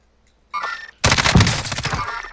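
A short burst of automatic gunfire in the video game Warzone rips out loud and close after a brief faint sound, rapid shots running together for over a second.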